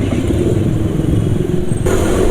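A Yamaha NMAX scooter engine runs rough after bad oil, a loud, steady low rumble with a grainy, uneven texture that continues without pause close to the microphone.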